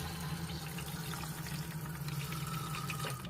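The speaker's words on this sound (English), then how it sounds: "Question is, will it work? Will it flush?" A Thetford toilet flushes, water rushing and gurgling steadily and close by for a few seconds, fairly quiet, with no talking.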